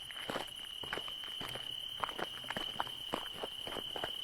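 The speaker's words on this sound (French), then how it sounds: "Des bruits de pas dans le gravier." Footsteps crunch on gravel in a steady walking rhythm, close and fairly faint, over a constant high insect drone.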